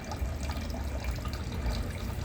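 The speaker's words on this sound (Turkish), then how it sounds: "Bu alttan başladı su akmaya." Water starting to trickle up through a stubborn clogged drain as chemical drain opener reacts, a steady low gurgling, bubbling wash close by, fairly continuous with no talking.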